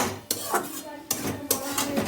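Three or four close metallic scrapes and clinks of a spatula stirring a fish head with cabbage in a pan, spaced irregularly.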